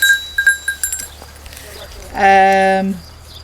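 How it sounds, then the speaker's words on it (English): A few light clinks and taps, then one long, loud meat goat bleat close by, wavering for nearly a second, on a homestead in Portugal. "unfortunately Adelino breeds his goats for meat"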